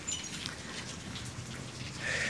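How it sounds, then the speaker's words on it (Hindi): Steady, heavy rain pours outside as a dense, even hiss at low volume, continuing without a break and with no voices over it. "आज बड़ी खुल के बारिश हुई है"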